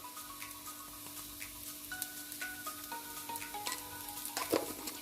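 Prawns with homemade garam masala sizzle gently in a pan over a low flame, a soft continuous frying crackle with scattered faint pops and a few brief ticks, with no talking.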